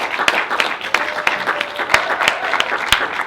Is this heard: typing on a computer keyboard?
no